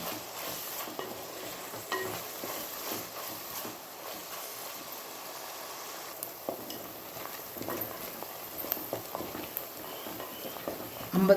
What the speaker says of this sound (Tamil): நல்லா கோல்டன் ப்ரௌன் கலர் வர வரையும் வதக்கிக்கணும் வெங்காயம்